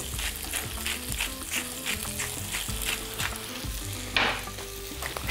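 Onion fries in a pan while being seasoned, a loud, busy sizzle with rhythmic stirring scrapes and a burst of crackling near the end, over faint background music.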